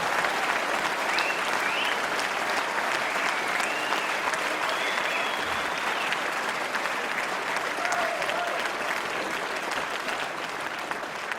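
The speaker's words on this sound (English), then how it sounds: "give Conservative Mayor of London, Boris Johnson, a big cheer for saying that" Political party spring conference audience in a hall applauding and cheering steadily for a Conservative Mayor of London, a dense, continuous wash of clapping with a few raised voices, loud throughout.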